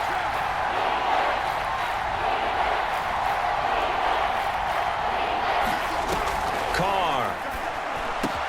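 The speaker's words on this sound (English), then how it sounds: "The crowd getting into it as we come up on a big 3rd down." Stadium crowd noise from the video game Madden NFL 22, a steady broad roar of fans building ahead of a big third down, continuous and loud throughout with a commentator's voice over it.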